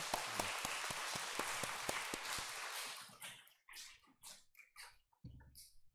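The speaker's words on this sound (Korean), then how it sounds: "우리 강사 목사님께 큰 박수 보내주시겠습니다" Applause from a church congregation at a Methodist Wesley anniversary revival gathering, dense and steady for about three seconds, then breaking into scattered claps and fading out.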